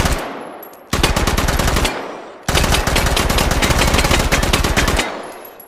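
Soviet PPSh-41 submachine gun in 7.62x25 fired on automatic at an outdoor range, two long loud bursts of rapid fire separated by a brief pause, with no talking.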